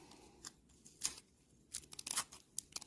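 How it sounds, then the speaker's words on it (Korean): Scotch tape is torn and pressed onto the end of a thread while making a macrame daisy keychain, heard as a few quiet, close crackling rips in short bursts, with no talking. "요 스카치 테이프를 요 실 끝에다가 이렇게 붙여서 실을 이제 얇은 실을 만들어 준다 생각하시면 돼요"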